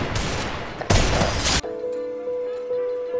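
Desert Eagle pistol fire in a shooting video game comes as two loud, harsh bursts in quick succession. A quieter steady electronic tone from the game follows.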